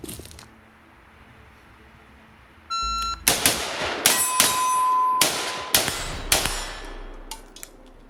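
Rifle shots from a PSA 16-inch Classic M4 upper ring steel targets at an outdoor range: about five sharp, loud reports in quick succession, each followed by a metallic clang and ringing tail, with no talking.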